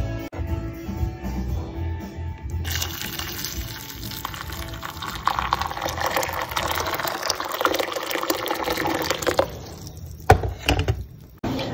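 Water from soaking meat pours and drains out steadily, a continuous near splashing and gurgling flow with a brief clatter near the end.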